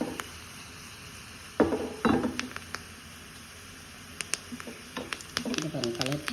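Vegetables for a mango, brinjal and drumstick sambar sauté in a pan with soft sizzling, punctuated by several loud scraping stirs and clinks of a spoon against the metal, while a voice speaks over it.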